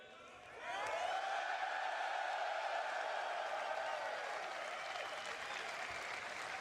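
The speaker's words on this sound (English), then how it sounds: "if we get a big cheer, we'll reveal the system" A large crowd cheers and applauds in a sustained wave that swells quickly and holds steady, moderately distant with no talk over it.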